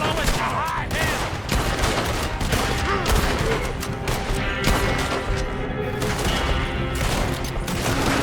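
Intense gunfire rages through a shootout in the video game Red Dead Redemption 2, loud continuous volleys of shots and crashes layered with game sounds, with no clear speech.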